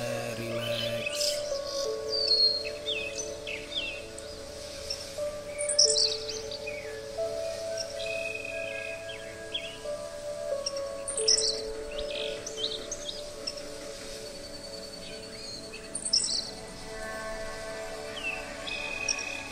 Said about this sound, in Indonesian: Suara-suara burung, mungkin suara gemericik air.